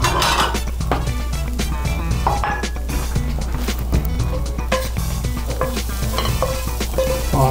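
Onion frying in pork fat, heard as a loud, steady sizzle close by with busy stirring and frequent clinks and scrapes of a utensil against the pan, and no talking.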